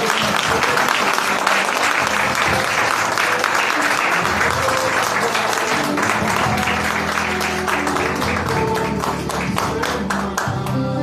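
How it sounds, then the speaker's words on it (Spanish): A church congregation bursts into loud, sustained applause that continues steadily from start to finish, with music or voices running beneath the clapping. "Dale un fuerte aplauso, chicos."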